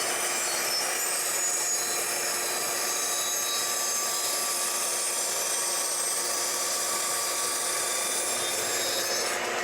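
Saw cutting through six wooden pieces at once, a continuous loud grinding rasp of blade through wood, steady from start to finish without voices.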